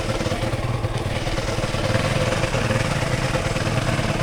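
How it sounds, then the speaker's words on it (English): A motorbike engine idles high with a steady, loud, close drone and mechanical clatter, running continuously without any pause while out on a rough forest trail ride in the Green Mountains. "my bike's not the only one that idles high"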